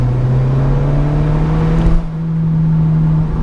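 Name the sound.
Alfa Romeo 4C 1.75 litre turbo engine revving, turbo flutter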